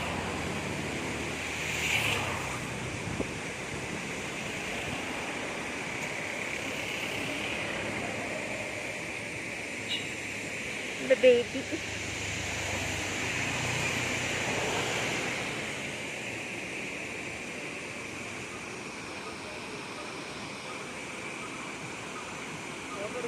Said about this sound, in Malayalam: ഇവിടെ മഴ പെയ്ത് പോയിന്നുണ്ട്. അതുകൊണ്ടാണ് ഇത്രയും വെള്ളത്തിന് ഇത്ര സ്പീഡ്.